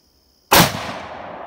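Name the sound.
Savage Axis .243 rifle shot at a milk jug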